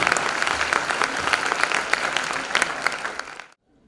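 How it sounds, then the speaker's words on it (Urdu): An audience at a readers' conference in Pakistan applauds loudly with dense, sustained clapping, then the clapping fades and stops abruptly into silence near the end. "آپ کی بھرپور تالیوں میں"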